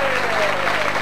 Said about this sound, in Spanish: ¿no nos aplauden?